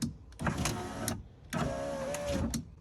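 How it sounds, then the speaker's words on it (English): Power window regulator on a Ford car driving the glass down and then up, two distinct whirring motor runs, each ending in a soft clunk, with a short gap between them, heard up close. "So that's how you fix the electric window cable mechanism."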